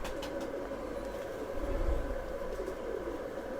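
Soft, low cooing from Missay pigeons, a white fancy breed in a Jammu loft, swelling briefly mid-way over a constant background drone, with no voices.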